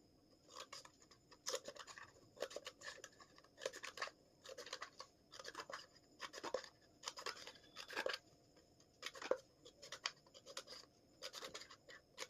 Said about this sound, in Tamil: இப்போ சிசர் எடுத்துக்கோங்க. இதை இப்படி கட் பண்ணணும்.